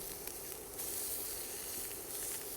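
Spice-rubbed tofu searing in a hot pan, a steady close sizzle and hiss that holds evenly for a couple of seconds with no talk.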